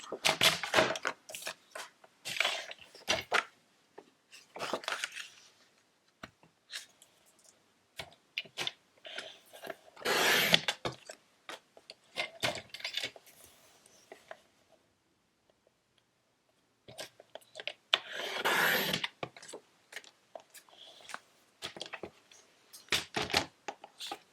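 A paper card piece is cut down to size for a handmade card, giving a series of dry ticking clicks and snips in irregular bursts with pauses between, close and fairly quiet.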